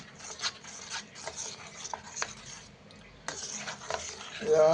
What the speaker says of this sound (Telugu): ఉప్పు వేసుకొని అయితే కలిపేసుకుందాం